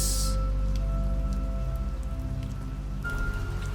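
Steady rain falls throughout as a horror story sound effect, a loud continuous wash with a faint tonal hum beneath, no voices.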